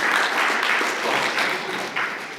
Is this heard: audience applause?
yes